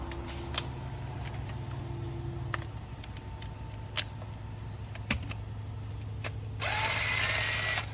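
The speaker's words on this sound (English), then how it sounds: "Take this nut out, and then we'll pop them all free." A power tool working a nut loose on an engine during an inframe rebuild, with a low steady hum and scattered clicks before a loud, close burst of tool noise near the end.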